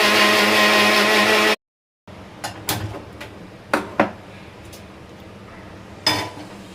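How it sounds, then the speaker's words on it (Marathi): A mixer grinder loudly whirs as it grinds cooled masala paste for spicy misal, then cuts off abruptly. After a brief silence come a few scattered clinks and knocks of the jar and kitchen utensils. "तर आता आपण हे मिक्सरला लावून वाटून घेऊया."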